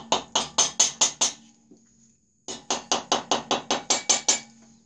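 Repeated sharp hammer taps loosen a cylinder on an air-cooled VW engine, two quick bursts of about six and nine evenly spaced knocks separated by a short pause, close and clear with no talking.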